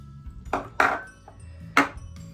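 A pot of borscht with cabbage and buckwheat is set onto the stove, giving a few close metallic clanks and knocks of cookware in a quiet kitchen with no talking.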